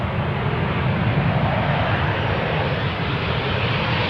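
A Ryanair airliner on approach to runway 18R at Amsterdam Schiphol gives a loud, steady engine roar that fills the whole stretch without any talk.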